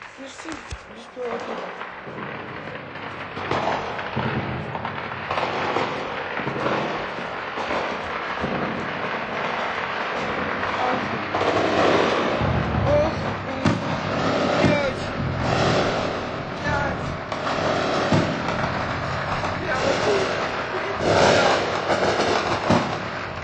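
Drone strike explosions heard from within Saint Petersburg, Russia: a long, dense wash of distant rumbling bangs and crackling blasts mixed with broad background noise, growing heavier in the second half, with occasional voices in the scene.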